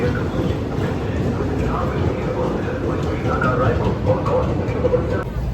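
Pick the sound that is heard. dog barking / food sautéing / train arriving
train arriving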